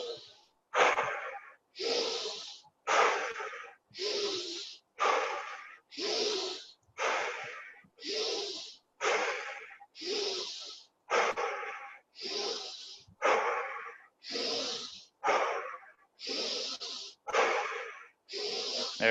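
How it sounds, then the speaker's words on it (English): Heavy, rhythmic breathing during a guided breathing exercise, about fifteen strong, evenly spaced breaths with forceful airy rushes, close and loud, with no talking. "Keep breathing."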